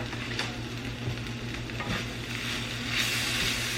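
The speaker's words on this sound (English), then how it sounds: "So now I'm going to add some spinach to the top. And the tomatoes." Spinach and tomatoes sizzle steadily in a hot pan, a close, continuous frying crackle with light stirring scrapes and no talking.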